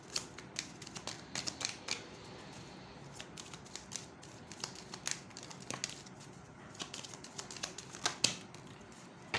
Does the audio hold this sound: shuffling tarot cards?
yes